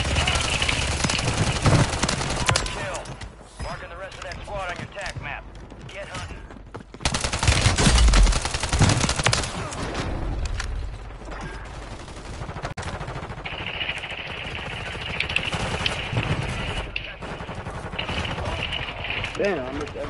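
Call of Duty Warzone combat with gunfire bursts and heavy shots amid constant battle noise, a voice talking over the action at times, loud and close.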